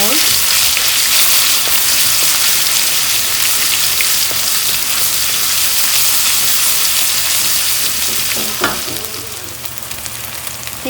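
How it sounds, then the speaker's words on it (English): Ginger garlic paste sautéing in a pan for chole, a dense, steady, loud sizzle like heavy rain, with a few utensil clinks and stirring scrapes near the end as it quiets slightly. "Add 1 tablespoon of ginger garlic paste. Saute it until the raw smell goes."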